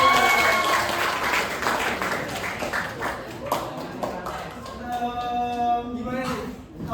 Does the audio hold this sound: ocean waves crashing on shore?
no